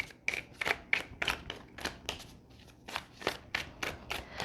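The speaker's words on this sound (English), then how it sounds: "Let's pull a couple more cards." Tarot cards in a pick-a-card reading are shuffled and drawn, giving a run of about a dozen quick papery riffles and slaps in an uneven rhythm, close and clear with no talk.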